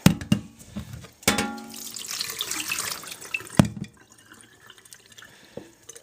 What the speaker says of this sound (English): Put water in it, shake it around, rinse it out, pour it out.